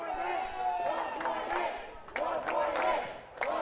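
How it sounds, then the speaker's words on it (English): Crowd in the stands at a men's college basketball game, Brevard vs. Bob Jones, chanting together in loud rhythmic bursts that swell and dip over a few seconds, voices overlapping in a busy gym. "Crowd chanting"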